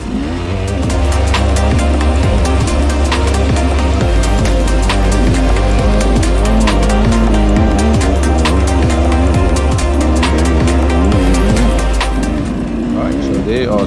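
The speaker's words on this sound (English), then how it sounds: "a little bit more momentum, and stuck in the loose gravel and off." An enduro motorcycle revs hard and continuously up close as its rear wheel spins while stuck in loose gravel at an off-road funduro event. The engine note wavers and surges throughout.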